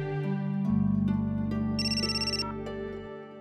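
A phone ringtone plays alone, a steady electronic melody with a higher bright tone joining midway, clear and close.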